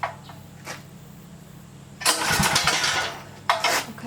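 Small engine cranked with a pull cord: a few short rasping pulls, then it catches and runs loudly for over a second, dies back, and another sharp pull follows near the end.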